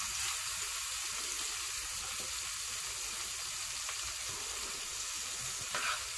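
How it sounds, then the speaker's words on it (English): Fish pieces for South African pickled fish fry in a pan, giving a soft, continuous hissing sizzle that stays even and fairly quiet throughout, with no voices. "we let the fish fry, we do all sides"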